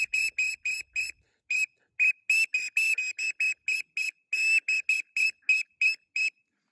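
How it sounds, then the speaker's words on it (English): A teal duck call whistle is blown in a long run of short, high, piercing peeps, mostly evenly spaced with a brief gap early on. The pitch shifts slightly as the air is varied from low to high. "I'll blow the teal whistle and I'll vary my air from low to high"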